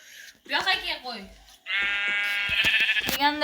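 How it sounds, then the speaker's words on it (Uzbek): A Minecraft sheep gives a long, nasal bleat after a voice talks briefly, the bleat loud and close with a few game clicks under it. "urib olish kerak bu qo'ylarni"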